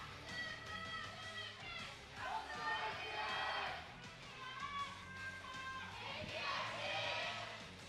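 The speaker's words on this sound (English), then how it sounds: "Fans are out in full force today. Pretty much a full crowd here." A near-full arena of esports fans at a League of Legends match between ROX Tigers and KT Rolster swells in cheering and shouting waves under steady commentator talk.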